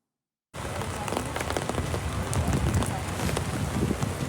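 Heavy rain pours down on flooded New York City streets, a dense, steady roar of water on hard surfaces that starts abruptly and continues without pause, with some wind noise.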